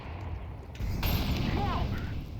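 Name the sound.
grenade explosion in Counter-Strike video game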